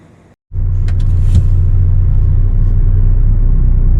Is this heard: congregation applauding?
no